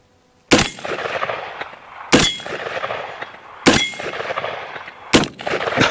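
Rifle shots ringing off a swinging steel target: four sharp loud cracks about one and a half seconds apart, each followed by a lingering metallic ring, close and with no talk.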